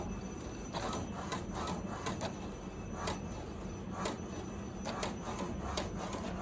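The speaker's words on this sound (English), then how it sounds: "the printer is automatically printing a alignment" An HP DeskJet Ink Advantage 2336 printer runs off an alignment page, its print carriage ticking and whirring in quick, irregular bursts over a steady mechanical hum, close and alone without speech.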